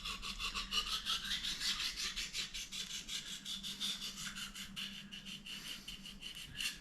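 A knife blade being sharpened on an oil stone, giving a rapid series of close, dry, raspy strokes in an even back-and-forth rhythm that continues throughout.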